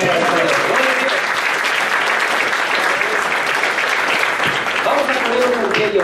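A church congregation at an anniversary service in Peru claps loudly and continuously, a thick close wall of hand clapping with faint voices mixed in at the start and end.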